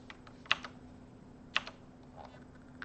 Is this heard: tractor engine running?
no